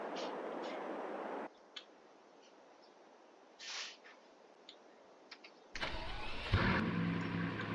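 In Farming Simulator 22, a car sits idling with a steady hum, then a short whirring power window lowers, followed by a louder engine starting and running on, all without talk.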